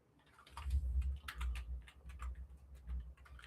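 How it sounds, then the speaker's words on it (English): Someone types on a computer keyboard in quick, uneven clusters of soft key clicks, set over a low background rumble, with no talking. "I just type it in."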